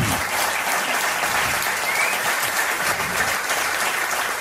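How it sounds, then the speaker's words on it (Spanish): An audience applauds the guests present, a loud, even wash of clapping that holds steady throughout with no break and no voice on top. "os pido un aplauso para todos ellos que están aquí."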